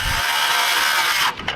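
A circular saw cuts along a chalk line through roof sheeting on a truss, a loud, close, grinding whine that stops abruptly near the end, with no talking.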